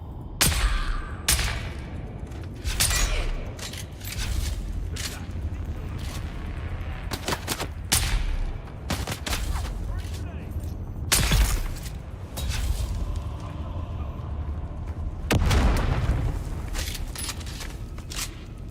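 Rifle shots in the survival game Dune: Awakening, a long run of sharp single cracks and short bursts at irregular intervals, with a heavier boom near the end and occasional voices underneath.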